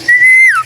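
A single clear whistled note from a bird in a home aviary, held steady for about half a second before gliding downward, close and fairly loud.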